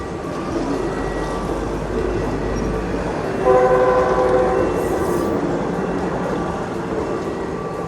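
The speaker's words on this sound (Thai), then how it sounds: "รถไฟมาพอดีเลย" A train rumbles past close by along the tracks near Wat Ratchaorot in Bangkok, with a continuous roar and rattle, its horn sounding briefly midway.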